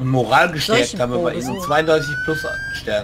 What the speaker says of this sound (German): Das ist eine Sirene.